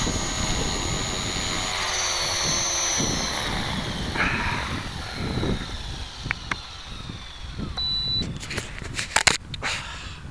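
A Tarot 450-size RC helicopter comes in to land in strong wind, its motor whine and rotor wash droning steadily before the power drops off and leaves gusty wind noise and a few sharp clicks near the end.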